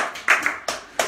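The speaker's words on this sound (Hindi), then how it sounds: "तो अशफाक साहब के लिए मेरी तरफ से थोड़ी तालियां।" Brief applause for a camera operator during a giveaway lucky-draw live stream: a few quick hand claps, close and fairly loud, ending almost as soon as they start.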